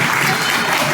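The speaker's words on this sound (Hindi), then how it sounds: "जोरदार तालियों के साथ स्वागत।" Loud, dense applause from a crowd welcoming guests at a ceremony, steady and continuous throughout with no voices standing out.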